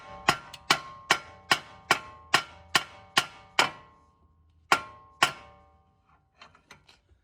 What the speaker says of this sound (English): we're going to take the hammer. We're going to hit here